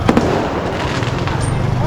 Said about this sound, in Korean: 불꽃놀이 하나 보네